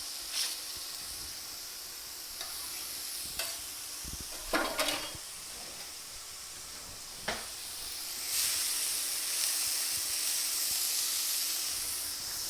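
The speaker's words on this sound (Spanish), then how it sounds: "vamos a sofreír la cebolla hasta que se ponga casi transparente y le vamos a agregar el ajo de una vez" Onion and garlic sautéing in a pan, a steady broadband sizzle running throughout with several sharp scraping stirs of a spoon, the frying growing louder and denser toward the end.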